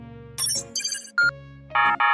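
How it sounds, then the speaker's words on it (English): A phone notification alert chimes in a few short, bright tonal bursts, close and clean against near silence. "Oh, wait. Another notification."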